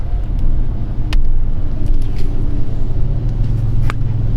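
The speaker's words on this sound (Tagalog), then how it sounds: "Traffic." Car driving through traffic on the way to the airport, a steady low engine and road rumble throughout with a few faint passing clicks and knocks, no voices.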